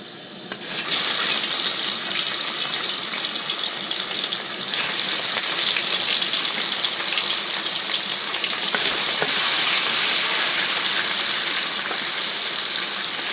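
Pieces of shol (snakehead) fish frying in hot oil in a wok, making a loud, steady, hissing sizzle that starts abruptly and grows louder in steps as more pieces go in. No one speaks.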